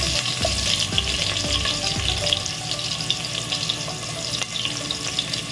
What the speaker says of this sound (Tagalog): start na tayo ng gisa. Ayan, una kong ilalagay yung ating luya.